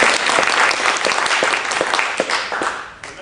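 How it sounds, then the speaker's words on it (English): Applause from a studio audience at a staged television game show, a dense burst of clapping that stays loud throughout and thins slightly toward the end. "I rather expected a little applause there"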